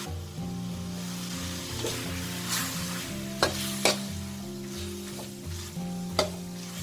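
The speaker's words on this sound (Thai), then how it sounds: "เราก็ใส่เส้นหมี่ของเราไปผัดเลยค่ะ" Continuous sizzling of rice noodles being stir-fried in a hot wok, with occasional sharp scraping clacks of a spatula against the pan, no voices.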